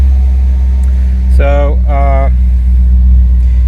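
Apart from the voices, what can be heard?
Audi B7 RS4 engine starting and running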